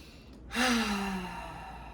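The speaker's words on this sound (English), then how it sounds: "Another deep breath in." A single deep breath drawn in audibly, starting abruptly halfway through and trailing off softly, close and fairly loud against quiet background hiss.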